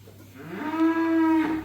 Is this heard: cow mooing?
yes